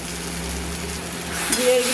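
Chili and ginger paste with cumin powder sautés in a pan, giving a steady, close sizzle that grows slightly louder toward the end.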